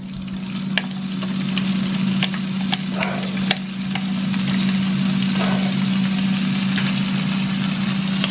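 Loud, steady sizzling of pancetta frying in a pan, with occasional crackles and spatters over a constant low hum.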